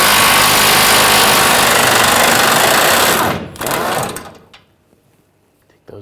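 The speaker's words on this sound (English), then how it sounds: "we're going to take this bolt out, use a 22mm socket" A power tool with a 22mm socket drives out a rear bumper bolt on a 2014-2018 GMC Sierra 1500 with a tow hitch, buzzing loudly and continuously, then a short second burst before it falls silent.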